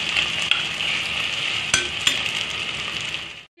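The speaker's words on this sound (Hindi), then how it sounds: "ये देखिए भुन रहा है, इसको थोड़ा 2-4 मिनट हम इसको भूनेंगे।" A semolina, potato and vegetable stuffing sizzles steadily as it roasts in a pan, with a few sharp scrapes and clinks of a stirring spoon before the sound cuts off.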